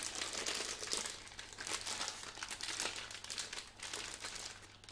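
A plastic piping bag being folded back by hand, giving close, continuous soft crinkling and crumpling over a faint low hum, with no talking.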